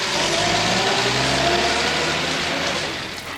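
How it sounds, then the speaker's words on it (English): A 1948 Ford Super DeLuxe V8 engine rumbles loudly up close, revving and holding a deep throaty tone before easing off toward the end. "It's a recording of an actual 1948 Ford mixed in post-production."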